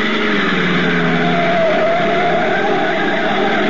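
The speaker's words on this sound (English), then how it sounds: "a black sedan twists up the curving mountain road leading to the inland plantation country of Puerto Rico" A black sedan climbs a curving mountain road into the inland plantation country of Puerto Rico, its engine and road noise a loud, steady, unbroken roar from start to finish.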